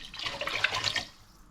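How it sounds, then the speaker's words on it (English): Water pours briefly into a cooking pot over chopped pumpkin and garlic, a short splashing stream that tapers off after about a second. "pour water on it, just cover it with water"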